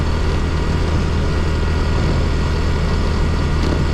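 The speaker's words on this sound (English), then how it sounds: "the muffler loud on the motorbikes here" Loud motorbike with an open muffler on a Philippine provincial road, a dense, steady engine drone close to the microphone with no talking.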